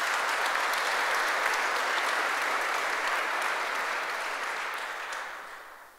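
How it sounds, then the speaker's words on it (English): A seated audience at a press freedom justice event breaks into steady, even applause that holds for several seconds and then fades out toward the end. "since you interrupted me by applauding"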